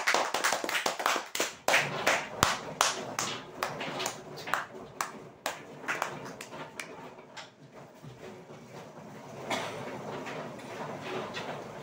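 Audience clapping at a prize draw event, a burst of brisk hand claps that is strongest at the start and thins into scattered, fading claps, with faint background voices.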